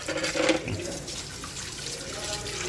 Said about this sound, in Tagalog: maghugas muna tayo ng plato